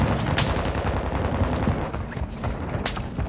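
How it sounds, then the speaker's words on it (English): Near-continuous gunfire rattles through a Call of Duty Ground War battle at the Rohan Oilfields, with sharp cracks and dull blasts from a mortar strike layered into the steady combat din. "Hostiles launch the mortar strike."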